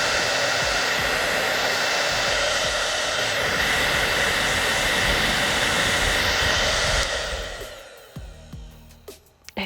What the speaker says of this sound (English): we're gonna test it out with a little blow dryer test and see if this lash kit actually holds up in